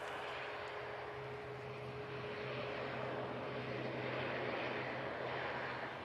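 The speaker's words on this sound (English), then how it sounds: "really nice landing there from the Jet 2 crew, because that plane would have been pretty light" A Jet2 passenger plane landing at Manchester Airport, heard as a steady, moderately distant engine roar with a faint tonal hum, continuous and unbroken for several seconds with no voices.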